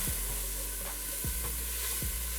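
Garlic, white onion and jalapeno with black pepper fry in a pan with a steady close sizzle, punctuated by a few low thumps from stirring, no voices.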